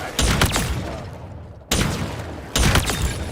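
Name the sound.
space gun firing in Halo Infinite video game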